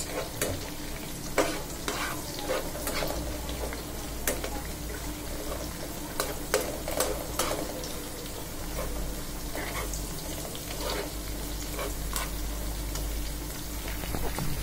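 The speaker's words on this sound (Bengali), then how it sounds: "আর এদিকে হচ্ছে আমার তিত করলা ভাজি, পেঁয়াজ, রসুন, কাঁচামরিচ" Bitter gourd frying in a pan with onion, garlic and green chili in a home kitchen, a continuous sizzle with frequent stirring clatters and scrapes, steady and close, with some running water in the background and no talk.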